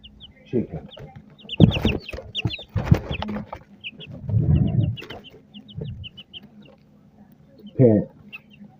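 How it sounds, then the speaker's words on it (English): Chickens cluck and peep in short, high bursts scattered throughout, while someone talks nearby and the fowl sounds rise between his phrases. "Chicken."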